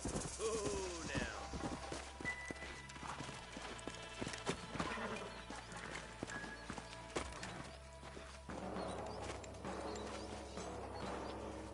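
Horses clip-clop at a walk in the video game Red Dead Redemption, with steady hoofbeats under game ambience, mechanical clicks and a brief neigh early on.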